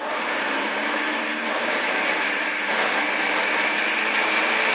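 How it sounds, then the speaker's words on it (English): A blender whirs steadily and loudly while blending corn soup, a constant high motor whine with a slight churning texture throughout and no talking. "And we're going to let this blend until it's nice and smooth."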